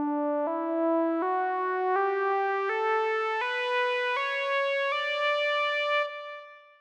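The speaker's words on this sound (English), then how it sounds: "First, a group of notes that moves up." A group of eight sustained musical notes steps upward one by one at an even pace, each tone clear and loud, with the last one fading out.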